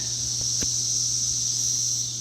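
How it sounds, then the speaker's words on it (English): Cicadas buzz in a dense, continuous drone all around an outdoor backyard grilling area where hundreds of the insects swarm, the steady high-pitched chorus loud and unbroken, with faint low hum beneath. "There are cicadas everywhere."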